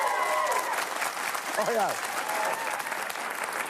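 A studio audience claps and cheers throughout a comedy news show, steady applause with a voice briefly heard over it.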